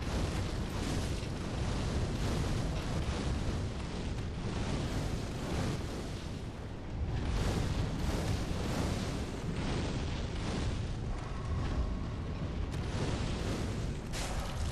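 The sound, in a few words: fireballs being fired in Dark Souls 3 video game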